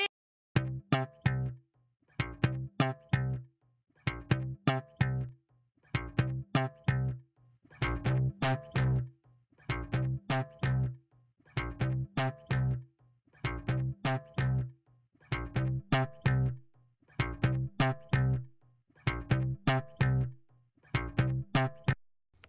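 Electric bass riff pushed through harmonic distortion with tube and tape saturation, a repeating pattern of plucked notes in regular phrases, gritty and growly, played alone with no talking.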